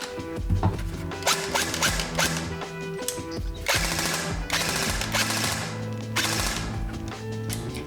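Rapid bursts of fire from a Specna Arms AK-74 airsoft rifle, loud and close, with clattering mechanical bangs in several volleys and no talking.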